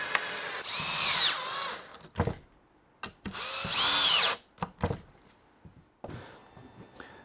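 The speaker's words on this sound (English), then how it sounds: "I can now get these brackets screwed on" Power drill driving screws to fasten brackets onto a tool box cart: two close, loud whirring runs that rise in pitch, each followed by clunks and short knocks of handling.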